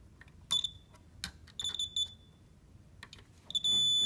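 Short high-pitched electronic beeps from a multimeter continuity test on wiring, in irregular bursts, some brief chirps and a longer sustained tone at the end, with faint scraping between them.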